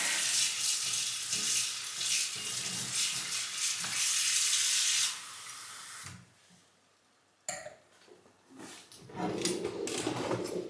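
Tap water runs in a loud, hissing stream in a home kitchen, cuts off abruptly, then after a short quiet gap gushes again more unevenly near the end.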